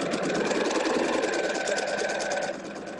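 A sewing machine runs continuously while stitching a dress hem, a close, even, rapid mechanical whirr that eases slightly near the end.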